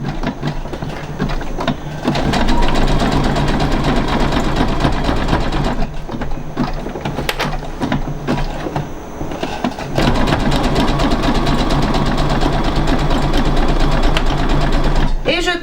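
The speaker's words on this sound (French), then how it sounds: "J'ai bien tout cousu au point zigzag tout le tour, donc comme vous pouvez le voir, les tissus tiennent ensemble." Sewing machine running a zigzag stitch through backpack fabric, a loud close mechanical whir with a rapid stitching rhythm that runs nearly continuously, pausing briefly twice, with a voice talking over it.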